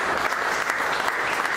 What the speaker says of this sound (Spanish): Regálenle una ofrenda de palmas a Dios.